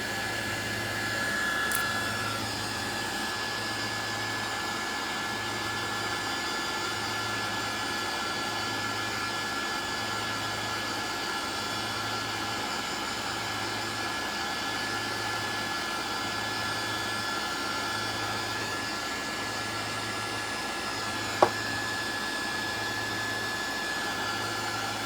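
A heat gun blows steadily on thick paint over reclaimed wood, giving a constant airy roar with a low, regular pulsing hum throughout and one faint click late on.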